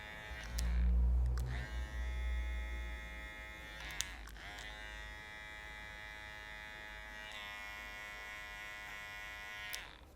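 Hair clippers trim curly hair for a fade in a mohawk cut, a close, steady electric buzz with a low thump near the start and brief dips where the blade shifts, running without talk.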